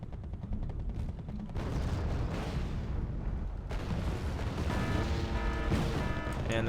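Autocannon fire in the Wargame: Red Dragon Second Korean War campaign, dense sustained battlefield rumble with rapid bursts of shots and booms layered over distant explosions, loud and continuous throughout.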